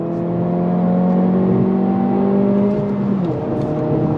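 A 2025 Honda Civic Si engine revs hard and climbs steadily in pitch, then drops abruptly at a gear shift before pulling again, loud and close with a dense harmonic drone.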